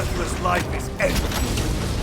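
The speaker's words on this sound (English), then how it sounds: "Munitions secured. Reloading weapon." Metallic clicks and creaking mechanism sounds of a weapon being reloaded in Warhammer 40,000 Space Marine 2, a short mechanical clatter heard close and clear over a low background hum.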